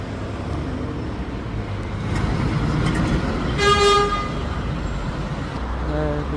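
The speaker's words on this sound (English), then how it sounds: "And VAR 400 Scania is leaving transport hub" A Scania bus pulls away from a transport hub in Gloucester, with a steady engine drone rising and fading amid traffic noise, a short horn toot partway through, and a voice talking in the background.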